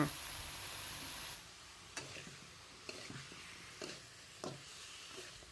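Shrimp stir-frying in a pan with torn kaffir lime and basil leaves makes a soft sizzle, broken by several sharp clicks and scrapes of a utensil against the pan at irregular intervals.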